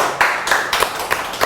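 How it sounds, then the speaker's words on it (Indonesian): Scattered clapping from a small audience at an Indonesian talk-show taping, a few separate hand claps in a brief, sparse burst. "tepuk tangannya dong mana?"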